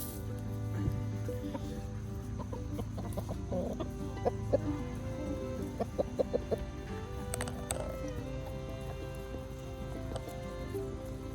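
A chicken clucks and pecks at food while being fed by hand, with soft repeated clucks and a few sharp taps nearby over a low background hum.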